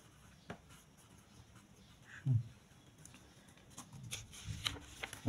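Pen or pencil writing on paper during an engineering drawing lesson, faint close scratching strokes with a few soft knocks and rustles, no talking.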